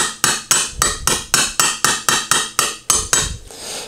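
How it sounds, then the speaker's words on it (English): A hammer taps an engine valve to seat it during a Can-Am Rotax V-twin rebuild, about a dozen sharp metallic strikes in a quick, even rhythm, close and alone. "What I like to do sometimes is I just tap the valve a little bit like this."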